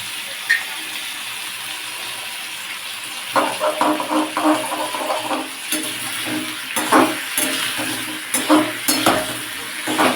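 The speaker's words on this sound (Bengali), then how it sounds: "হিংটাকে আমি এবার ফোড়নে দিয়ে দেবো" Asafoetida (hing) dropped into hot oil as a tempering beside nearly fried potatoes, in a pumpkin and drumstick vegetable dish: a steady close sizzle with intermittent scraping stirs and spoon clinks, no talk.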